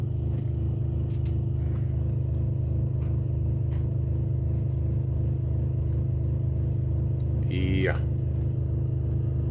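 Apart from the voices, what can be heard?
generator running at about half throttle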